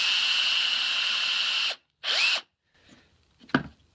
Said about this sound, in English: direct a drill bit at a approximate 25-degree angle from vertical